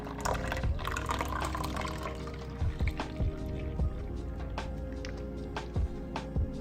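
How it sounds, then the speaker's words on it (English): A large cup of milk poured into pancake batter in a bowl, giving a continuous close liquid stream with soft splashing and a few dripping, squishy plops over about six seconds, with no voices. "we'll use or pour the large cup of milk"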